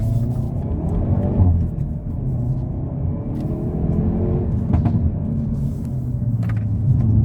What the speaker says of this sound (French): on a vraiment un échappement actif avec des petites pétarades quand ça décompresse